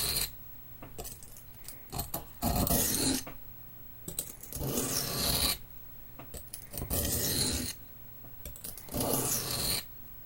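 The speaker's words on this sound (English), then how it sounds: "And we're just going to sharpen this knife, or attempt to sharpen this knife." A knife being sharpened on a sharpening stone gives four bursts of gritty, rasping strokes, each about a second long, separated by quieter gaps with light clinks. The strokes come close and moderately loud.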